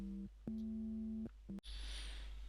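An FM8 synthesizer tone on a TX wave operator set to ratio 0.25, playing steady sustained notes that break into short bursts, then a brief click and a bright, hissy filtered noise with a high whine, quiet and without speech.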